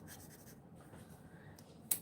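Permanent marker writing on plain printer paper, a soft continuous scratchy scribble with brief pauses between strokes, close and quiet, ending with a louder rustle.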